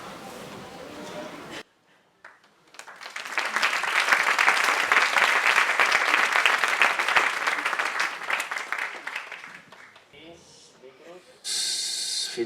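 An audience at a school Pastorets nativity play claps for the student performers. The applause builds into loud, dense clapping that lasts several seconds, then fades into scattered claps. Quieter sounds from the room come before and after it.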